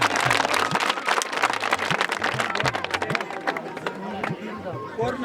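Crowd applauding at an outdoor horse riding competition, a burst of scattered clapping under an announcer's amplified voice, louder at the start and thinning out toward the end.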